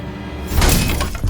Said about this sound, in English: startled when they heard the glass door to the diner slam open